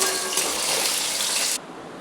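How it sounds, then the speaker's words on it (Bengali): Lentil dumplings (bori) hit hot oil in a kadai, giving a loud, dense sizzling hiss that holds steady for about a second and a half, then cuts away sharply. "দেখুন তেলটা গরম হয়ে গেছে, এবারে বড়িগুলো ছেড়ে দিচ্ছি"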